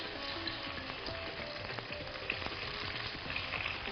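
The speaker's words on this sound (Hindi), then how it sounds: "इसमें गई कच्ची प्याज, 2 अदरक, वो भी सरसों के ऑयल के अंदर" Raw onion and ginger frying in mustard oil, a continuous close crackling sizzle with scattered pops and faint stirring scrapes throughout.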